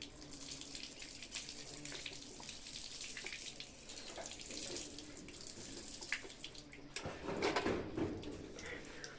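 Water runs steadily from a tap, splashing into a basin close by, with a brief clatter partway through and no voices.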